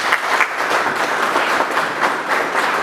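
A crowd at a local council gathering applauding, a dense, steady patter of many hands clapping together, sustained and fairly loud throughout the short stretch with no speech over it.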